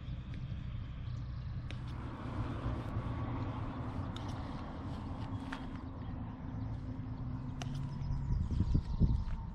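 Heavy vehicles roll past on a fairly quiet mountain road near Leavenworth, a continuous low rumble of road noise that swells louder toward the end, heard from the roadside with no talk.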